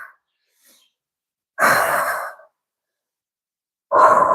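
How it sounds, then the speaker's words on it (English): Deep breaths taken during a core and cardio stretching routine, two long slow exhales with a quiet gap between them, close and clear with no other sound. "And just taking deep breaths here."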